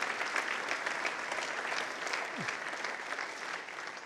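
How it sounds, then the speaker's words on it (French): A conference audience at the FOROM 2015 forum applauds people called up on stage, producing steady, dense clapping that holds at an even, fairly loud level for the whole stretch. "Les deux prochains, vous pouvez les applaudir."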